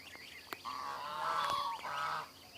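A goose honks repeatedly, a few short calls followed by longer nasal honks, fairly close, with no talking.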